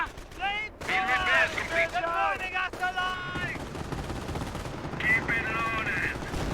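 A captured MG42 machine gun fires in Company of Heroes, its rapid bursts rattling under a commentator's voice, with whistling shell sounds and battlefield noise around it.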